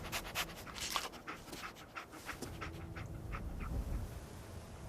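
Dogmeat, the dog companion in the Fallout 4 video game, pants in quick rhythmic breaths, close and fairly loud, with a few soft whines among the huffs and no talk over it.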